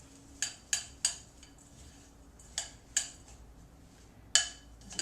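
A spoon clinking against a bowl while stirring honey into a peanut butter granola ball mixture, several sharp separate taps with quiet pauses between them.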